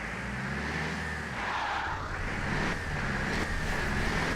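A Unimog truck races in Forza Horizon 4, its engine a steady, continuous roar with a sustained drone and broadband rush, loud and unbroken throughout with no voices.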